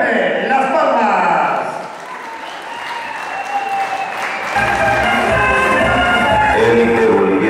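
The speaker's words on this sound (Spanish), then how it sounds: "¡Fuerte las palmas!" An audience applauds loudly and steadily for a Bolivian dance group, Élite Boliviana Americana, performing the Huacatojoris dance at a 2013 awards event, with dense clapping and crowd noise, while an announcer talks over it.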